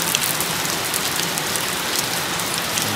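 Steady rain falls outside in Phú Thọ, a dense, even patter on surfaces that holds throughout at moderate loudness with no voices.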